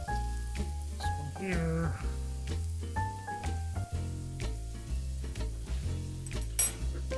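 Cajun-seasoned scallops sizzle in a hot pan as they are flipped. A steady frying hiss runs under loud background music, and someone speaks briefly.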